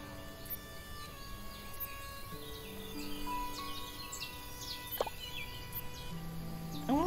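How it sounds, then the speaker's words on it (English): Game fowl calls, gobbling and clucking bursts, come and go over a steady bed of background music and ambient farm noise in the farming game Everdream Valley. "Oh, look at the chickens!"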